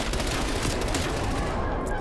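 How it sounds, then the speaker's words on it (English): A napalm strike in Call of Duty Black Ops Cold War roars as a dense, continuous wash of fiery rumble and crackling bursts, loud and close throughout. "Enemy napalm strike incoming."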